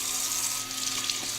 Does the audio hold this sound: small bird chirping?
no